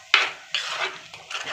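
Garlic, chilli and onion paste with curry leaves is stirred in a pan for a Kerala crab curry, three quick scraping strokes over a faint sizzle, close and without talk.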